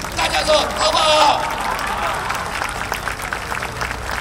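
An audience bursts into applause at an outdoor evening rally, a dense wash of clapping and crowd noise that swells loud at first and then thins out, with voices mixed in.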